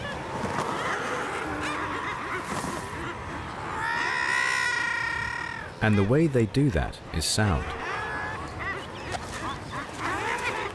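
A colony of hundreds of seabirds calls and shouts, with harsh honking, quacking cries rising and overlapping, some bursts close and loud, while a voice narrates over the din.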